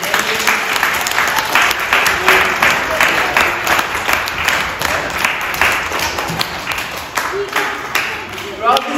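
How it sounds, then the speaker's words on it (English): Loud, sustained applause from a large crowd at a primary school dodgeball tournament awards ceremony, dense clapping that continues steadily throughout with a few voices mixed in. "big, big applause."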